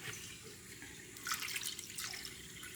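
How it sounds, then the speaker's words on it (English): Water runs steadily into a bowl of tamale masa, a continuous splashing pour that swells louder toward the middle and stays close, with no voices over it. "now we're going to start adding the water."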